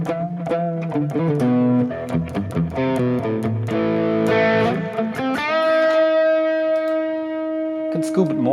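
A Boss Super Overdrive SD-1 drives an electric guitar lead tone through an IR, playing quick picked notes that end in a long, singing sustained note with harmonic-rich distortion, clean and up front.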